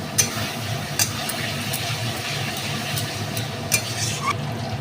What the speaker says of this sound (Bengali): আবারও বন্ধুরা এটাকে আমি খুব ভালো করে নাড়াবো।